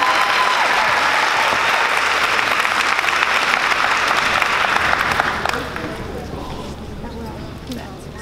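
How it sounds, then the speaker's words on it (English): Audience applause at a high school class day ceremony, loud dense clapping that drops off about two-thirds through, leaving a softer trailing patter, with a voice audible in the background. "Let's give them a round of applause, please."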